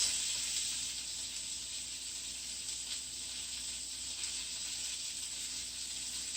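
Mushroom, spinach and feta omelet frying in a pan, a steady close hiss and sizzle with faint crackle, continuous and even throughout with no talking.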